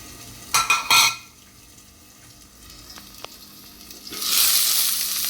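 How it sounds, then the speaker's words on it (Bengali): Potato and bitter gourd fry in a pan with a soft sizzle, broken early by a few sharp clatters of utensils and ending in a louder burst of hissing. "আর এখানে এই যে আলু উচ্ছে ভাজা বসিয়ে দিয়েছি"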